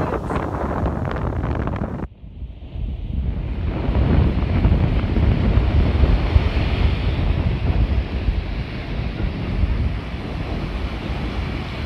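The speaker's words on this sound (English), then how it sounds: "I see the waves in the ocean." Ocean waves at a beach, with kite surfers out on the water: steady surf wash and strong wind buffeting the microphone. A brief drop in the noise is followed by a loud, continuous roar of wind and breaking waves, with no voices.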